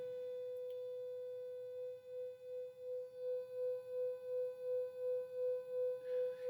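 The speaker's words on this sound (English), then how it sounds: "one tone that wobbled back and forth" Two cell phones play steady pure tones near 500 hertz, first as one smooth unvarying hum, then beating as one pitch shifts slightly, so the tone swells and fades in an even, slow wobble, clear and alone.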